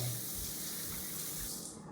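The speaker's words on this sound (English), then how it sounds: "Stick them back under the water and rub them together some more." Tap water runs in a steady, even broadband stream as hands are rinsed and rubbed under it at a sink, holding close and constant for the whole stretch before tapering slightly at the end.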